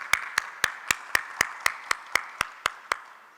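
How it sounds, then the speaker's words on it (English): Steady, evenly spaced hand claps, about a dozen sharp strikes in an even beat, from a conference session audience in Cairo on inland water transport; close and clear with no talking. "So a very big clap and thank you,"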